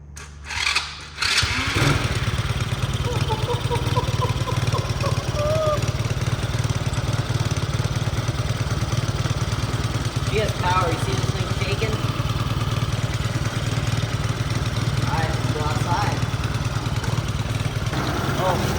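A small gasoline engine sputters to life and then runs with a steady, buzzy idle, with voices talking now and then over the noise.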